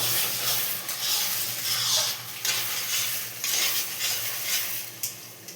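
Tomato with turmeric sizzles in a pan as a utensil stirs it, a close, continuous frying hiss with soft scraping strokes and light clinks against the metal.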